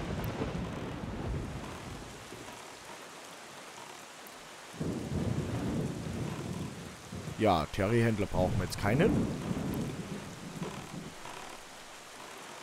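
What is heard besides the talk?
thunderstorm and rain in the video game Zelda Wind Waker HD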